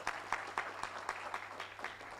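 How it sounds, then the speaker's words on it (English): Audience applause at an environmental diplomacy symposium in Nairobi: a moderate, fairly faint patter of clapping with a few sharper peaks, spread evenly across a short stretch with no voices. "Please give a round of applause to everybody who's made this work."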